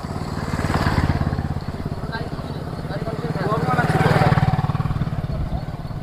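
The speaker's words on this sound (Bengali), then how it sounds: "কিছু দাদারা বাইক নিয়ে আসছে" Motorbikes pull up beside a shady mango grove on a Ganges riverbank, their engines throbbing steadily and swelling as they approach, with someone speaking over the rumble.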